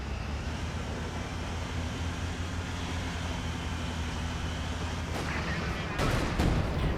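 Tank cannon fire in Company of Heroes 2, heard as a steady mix of rumbling battle noise that ends in a couple of loud, sharp blasts near the close.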